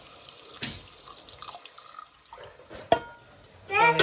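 Water runs and splashes into a cooking pot of mutton with onions, with a few clinks of utensils, building to a louder gush of pouring at the end.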